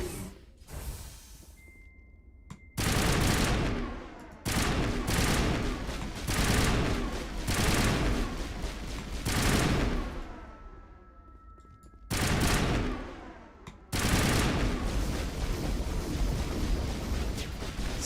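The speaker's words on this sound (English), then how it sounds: "Stop shooting me, Liara." Gunfire from Liara in the video game Mass Effect Legendary, dense loud bursts of shooting in several long volleys with brief quiet gaps between them.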